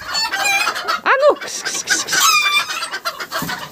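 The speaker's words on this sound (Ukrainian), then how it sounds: "вийшов півень" A rooster clucks up close in a farmyard shared with turkeys, giving several sharp, uneven bursts of calls with short gaps between them.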